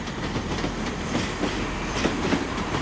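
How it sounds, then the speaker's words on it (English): Passenger train from Paignton arriving at Exeter St Davids station, rolling in with a steady rumble and rhythmic clickety-clack of wheels over rail joints, close by and fairly loud, with no talking. "we do have that service from Paignton to Exeter now coming in"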